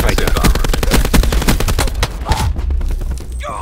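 Rapid pistol gunfire in Call of Duty Black Ops 4 multiplayer, a fast burst of loud close shots for about two seconds, then a couple of scattered shots and a trailing sound as the firing stops.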